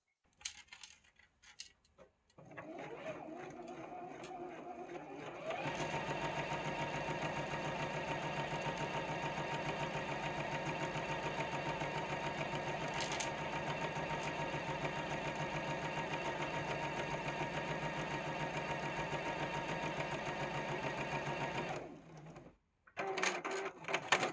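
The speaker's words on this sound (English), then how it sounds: "So I'm going to go to the machine and sew that." A sewing machine stitching a quilt block, its needle motor starting after a few quiet seconds and then running in a steady, close rapid whir and clatter for about sixteen seconds before stopping abruptly, with no talk.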